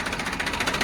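A New Holland 3600 tractor engine runs at a steady idle close by, with a continuous low rumble and faint rhythmic knocking pulses.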